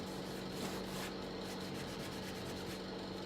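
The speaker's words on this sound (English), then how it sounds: "I'm gonna immediately buff it off" Cloth buffing dark wax off wooden furniture, a continuous dense rubbing and swishing, close and steady throughout with no pauses or voices.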